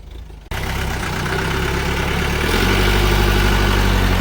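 A vehicle engine at a village riverside camp turns over and catches after a brief quiet moment, then runs steadily up close before rising to a louder, deeper rumble partway through.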